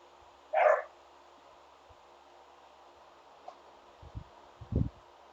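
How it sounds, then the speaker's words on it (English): Dogs bark nearby in a quiet room: one short, sharp bark near the start, followed by near silence and a few low thumps. "Sorry about the dogs."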